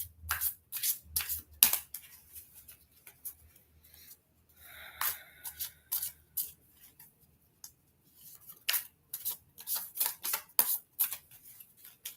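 Quick papery riffles and soft slaps of tarot cards being shuffled, coming in bursts with brief pauses, close and fairly quiet, no talking.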